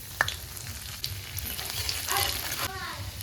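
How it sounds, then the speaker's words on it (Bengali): Dried chili and chopped garlic fry in hot mustard oil with a continuous crackling sizzle, a sharp pop near the start and louder spattering toward the end, heard up close. "দিলাম সর্ষের তেল শুকনো লঙ্কা দিয়ে দিলাম একটা রসুন কুচি"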